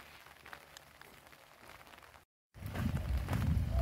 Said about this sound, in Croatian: Još kad bi kiša stala, to bi bilo super.